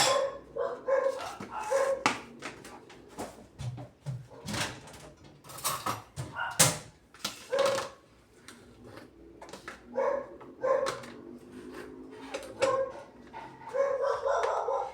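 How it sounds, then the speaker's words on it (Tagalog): A dog barks in short repeated bursts, some high yips mixed in, alongside clattering and intermittent talking nearby. "Ang ingay naman ng aso"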